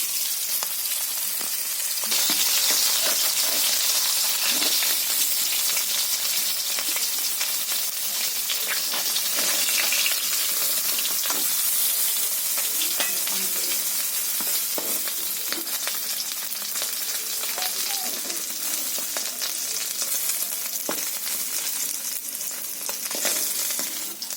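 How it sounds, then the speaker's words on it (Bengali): Hilsa fish and prawns fry in hot oil in a pan, giving a loud, continuous close sizzle and hiss with crackling spits and occasional stirring scrapes throughout, with no talking. "তো বন্ধুরা আমি হালকা করে জাস্ট ভেজে নিচ্ছি, একদম কড়া করবো না।"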